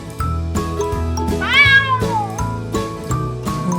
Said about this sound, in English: Look, a furry cat.